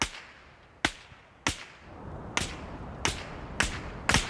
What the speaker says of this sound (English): The weapon crack sound has been changed again